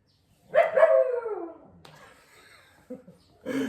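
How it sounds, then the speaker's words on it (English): A dog lets out one drawn-out, whining bark nearby, followed by a couple of shorter yelps, with quiet gaps between them. "Sorry about the dog."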